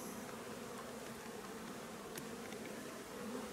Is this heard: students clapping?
no